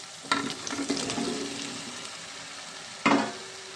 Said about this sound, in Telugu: ములక్కాడలు వేసేద్దాం. బాగా కలుపుకున్నామండి.